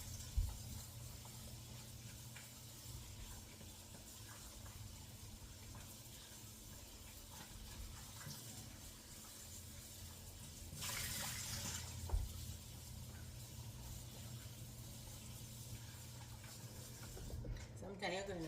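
Water runs faintly and steadily from a tap as fresh okra is washed, a low hiss with a brief louder splash partway through.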